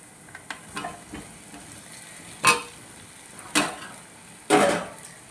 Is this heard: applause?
no